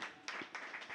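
An audience claps together at a gathering, a dense, fairly close patter of hands with a few sharper claps standing out, running steadily through the whole moment with no talk over it.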